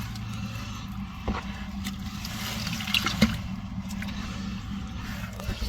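Water rushes steadily through a gold sluice box set in a stream for glacial gold prospecting in Ohio, a continuous burbling flow at moderate level with occasional splashes.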